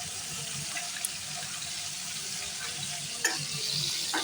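Duck meat cooking in a pan gives off a steady close sizzle, with occasional light clatters of a utensil against the pan and no voices.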